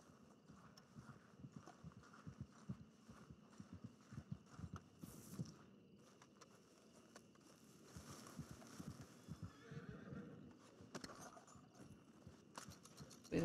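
Steady clip-clop of horse hooves trotting at a moderate pace in Red Dead Redemption 2, with mechanical clicking and game background noise; no clear whinny stands out.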